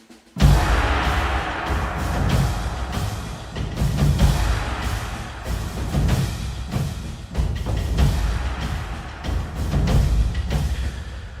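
Dense, layered orchestral percussion pounds steadily for several seconds, deep booming drums under sharp, crisp hits in a driving cinematic rhythm.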